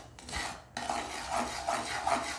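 Jaggery being stirred in a pan over a flame, a steady dry scraping and rasping with a few brighter scratches of the spoon against the pan, close and moderately loud, no voices.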